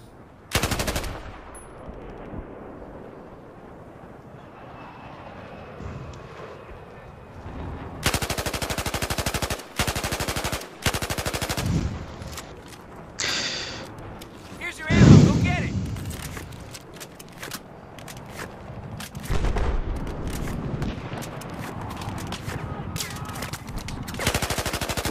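Gunfire in a military video game, with loud bursts of automatic fire and scattered shots alongside a heavy boom, while players talk over radio chatter.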